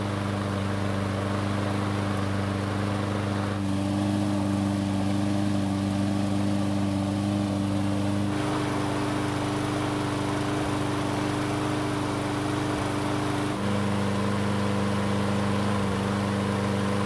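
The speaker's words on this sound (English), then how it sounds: "the best option would be to just run the machine till it runs out of fuel" A small gasoline engine on outdoor equipment being readied for winter storage runs steadily at idle, a loud continuous drone with strong low harmonics, shifting slightly in pitch partway through as it keeps going alone without any voices.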